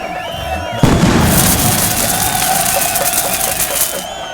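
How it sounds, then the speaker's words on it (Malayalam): Fireworks go off at an outdoor festival in a Malayalam film scene, a loud boom followed by a dense, continuous crackling roar with a crowd faintly underneath. "വെടിക്കെട്ടൊക്കെ മതി"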